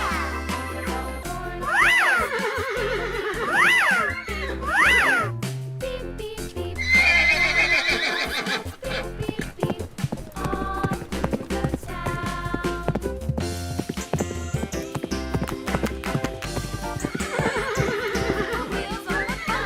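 A horse neighing sound effect: three quick shrill whinnies near the start, then further neighs and snorts among busy clattering and hoof-like clip-clop noise, loud and up close.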